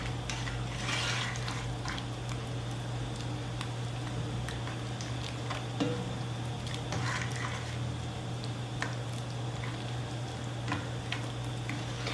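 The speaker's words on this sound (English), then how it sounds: "Now I'm going to just try to help the process of it breaking up, just by giving it some quick little chops." Salt cod cooking in a pan for rice with cod fish, broken up with quick chops of a utensil: a steady close sizzle with light scraping and tapping clicks scattered throughout, no talk.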